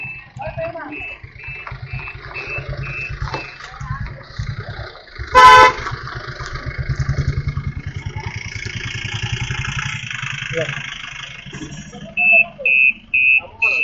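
A car horn toots in short repeated bursts, first faintly then louder near the end, over steady engine rumble and people talking.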